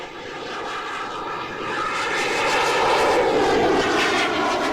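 A simulated RC plane flies inverted in a flight simulator video game, its engine a steady, tonal buzzing drone that grows louder partway through.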